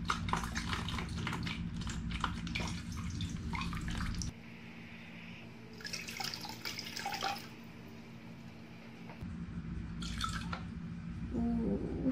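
Clean water is poured into a DIY aquarium for aquatic plants, giving a steady splashing, trickling stream that pauses and resumes, with a brief drip and a faint clink near the end.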